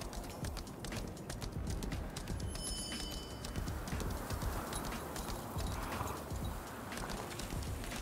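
Horse hooves clip-clop at a quick, steady pace while riding in the video game Lost Ark, set against a soft ambient bed with faint bird calls.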